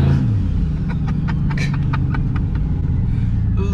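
A turbocharged 2003 GMC Yukon XL engine revs loudly and steadily up close, with a deep rumble and a short falling pitch at the start, then a row of brief airy hissing bursts that could be blow-off valve chatter.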